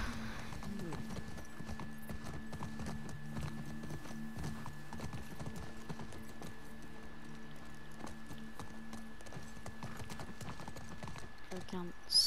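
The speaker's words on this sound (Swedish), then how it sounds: "Och här är Shimmer, våran häst." Horse hooves clip-clop in a steady, even rhythm in The Last of Us Part 2, continuing throughout with a faint tone humming behind them and a brief louder thump at the end.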